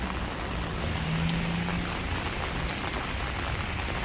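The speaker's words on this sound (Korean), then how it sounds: "이렇게 비가 많이 오는데" Heavy rain pours down in a dense, constant wash of drops hitting surfaces, loud and unbroken, and a faint low hum sits briefly in the middle.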